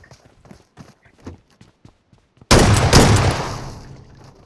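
Video game gunfire, a loud sudden volley of shots after a stretch of quiet clicks and steps, fading out over a couple of seconds.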